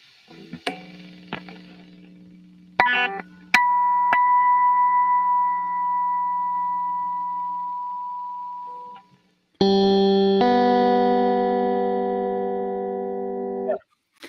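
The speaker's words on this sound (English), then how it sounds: "We can make the interference beats go away by detuning." An electric guitar interval rings out cleanly, first a plucked pair that sustains and fades smoothly, then a fuller chord struck loud and held, its tones detuned so no interference beating is heard, with short silent gaps between.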